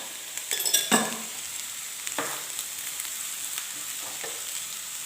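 Sliced onion sautés in a pan with half a teaspoon of salt while cooking a mackerel and mango curry, a soft continuous sizzle broken by a few sharp stirring scrapes near the start and fainter ones later.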